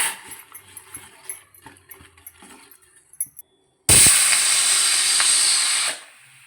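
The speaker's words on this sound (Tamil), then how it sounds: "விசில் வந்தாச்சு." A pressure cooker cooking moong dal and sago payasam releases its whistle: after quiet kitchen clatter, a sudden loud, sustained steam hiss bursts out for about two seconds, then cuts off.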